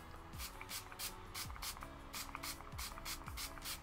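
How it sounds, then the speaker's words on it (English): A makeup setting spray mists onto a face in a rapid series of short hissing pumps, about eight close bursts in steady rhythm over a low background hum, no talk. "It's my favourite setting spray."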